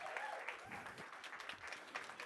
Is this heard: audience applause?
yes